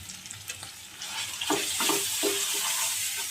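Water is poured into a pan of chana paneer cooking with chillies, ginger and poppy seed paste, a quiet sizzle giving way to a louder hissing splash halfway through, close by.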